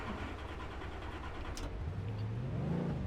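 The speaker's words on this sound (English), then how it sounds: "Okay, our engine just ran." A car engine runs in the iRacing simulator at Charlotte while the car wavers between stalling and running, a low steady drone that climbs in a rev toward the end, fairly quiet and alone.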